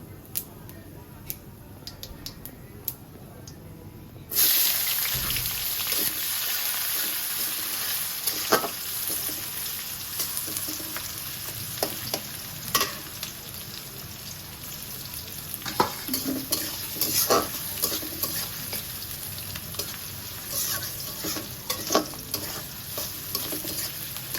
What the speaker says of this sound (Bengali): পিসটা ভাজা ভাজা করে নেবো